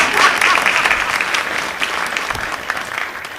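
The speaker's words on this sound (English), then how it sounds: "people break into wild applause and throw money" Wild crowd applause bursts out loud and sustained, a dense wash of many hands clapping that holds steady for several seconds as the cheering greets a magic trick reveal.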